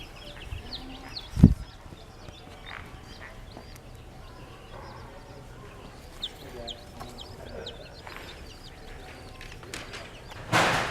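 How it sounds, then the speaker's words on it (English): Small birds inside a Toys R Us store peep and chirp softly throughout, with a couple of sharp knocks and some low background rumble. "We heard the birds."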